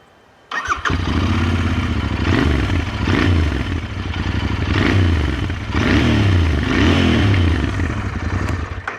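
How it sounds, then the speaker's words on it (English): A Royal Enfield Interceptor INT 650 motorcycle engine fires up and idles with a deep, throaty rumble from a modified exhaust, pulsing with small revs, close and loud throughout. "It's got a really nice exhaust note now, which is pretty cool."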